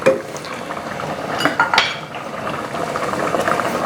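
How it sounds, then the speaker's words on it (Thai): Pumpkin and pork belly red curry with kaffir lime leaves being gently stirred in a pot: soft, steady scraping and clinking of a utensil against metal, with a couple of louder knocks midway, no talking. "นี่ต้องคนเบาแล้วล่ะ เพราะว่าฟักทองสุกแล้ว"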